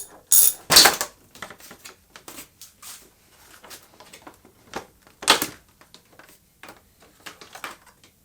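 Bolt being removed from the side fairing of a 2021 Yamaha R3, heard as scattered close clicks and ratcheting taps with a few sharper metallic clatters, fairly quiet between bursts.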